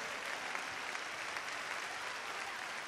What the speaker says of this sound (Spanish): Sí, dele usted un aplauso de alabanzas.